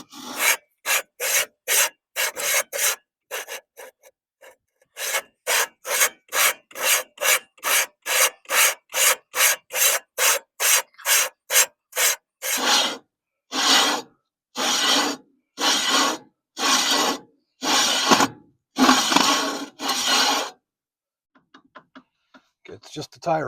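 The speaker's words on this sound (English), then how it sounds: "It's just the tie rod in making that noise." Rhythmic squeaky creaking from the tie rod of a 1969 Chevy Custom C10 truck, repeating in quick regular strokes, then slower, longer rasps, close and fairly loud.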